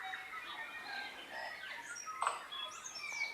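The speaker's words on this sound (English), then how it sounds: "You can't hear yourself because of the sound of the birds." Many birds chirp and warble at once in a dense, lively forest chorus, calls overlapping continuously at moderate distance with no voices.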